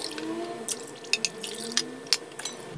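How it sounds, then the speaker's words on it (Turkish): Four cups of water poured over granulated sugar in a bowl to make syrup for a dessert, heard as faint, intermittent splashes and drips close by with no talking. "Şimdi üzerine 4 su bardağı su ilave edeceğim."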